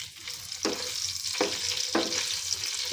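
Whole red chillies and cumin seeds sizzle in hot oil in a pan, a steady close fry broken by four rhythmic bursts of stirring.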